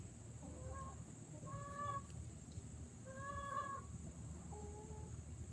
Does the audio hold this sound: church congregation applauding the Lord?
no